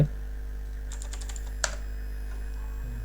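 Quick typing on a computer keyboard while entering an email address, a short cluster of light key clicks followed by a single sharper keystroke, close against a steady low electrical hum, no talk.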